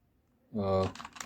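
Quick, light key clicks on a computer keyboard, used for Hindi typing in the Kruti Dev font with Alt number codes, follow a brief voiced sound, close and soft.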